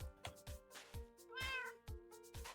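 A cat in the Minecraft video game meows repeatedly, about six short distinct calls in quick succession with one longer, higher meow near the middle, fairly quiet and alone.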